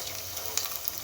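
Thalippu tempering for pongal sizzles in a hot pan with a soft, steady hiss, faint and brief, with no voices.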